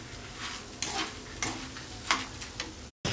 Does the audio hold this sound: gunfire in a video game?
no